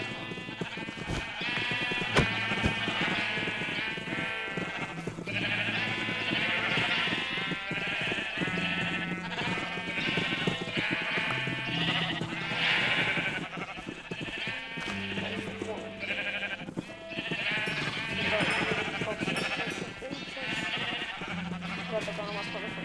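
Sheep bleating repeatedly on a farm, overlapping calls from several animals close by, with people talking underneath.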